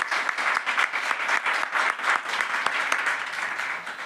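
A church congregation at a Sunday service claps loudly together, a dense sustained burst of applause lasting a few seconds.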